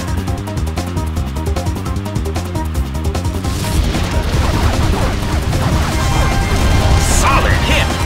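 A Pokémon Battle Revolution attack landing with a crash of impact over busy game music and battle effects, fairly loud and dense, with a sharper burst of hit noise near the end.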